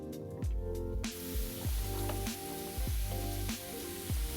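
Noodles sizzling in oil in a skillet, a close hissing fry that swells in repeated pulses about every half second as they are tossed, steady beneath a low hum.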